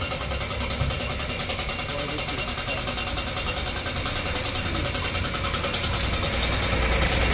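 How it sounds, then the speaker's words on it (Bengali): An electric motor running during spray painting of a Ganesh idol, a steady loud continuous drone with a fine buzzing texture that holds unchanged throughout. "এখন মোটর চালিয়েছে।"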